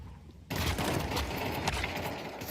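Rapid AK rifle fire erupts in Counter-Strike during a LAN match, a dense volley of overlapping shots kicking in suddenly after a quiet moment and continuing loudly to the end.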